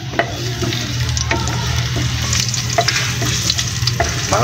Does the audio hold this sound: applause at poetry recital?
no